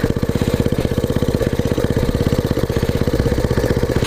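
A motorcycle engine idles steadily up close, its rapid even pulsing loud and unbroken for a few seconds.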